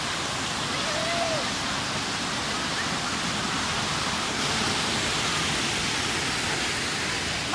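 Alongkorn waterfall in Sangkha, Surin, Thailand, pours in a steady, loud broadband roar that fills the whole stretch without pause, with no talk over it.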